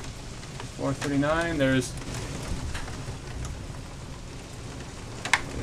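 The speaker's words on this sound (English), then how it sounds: "That's more hail hitting the house." Hail pelts the walls and roof of a house in a steady, rain-like broadband patter, with a few sharper knocks. A person talks briefly near the start.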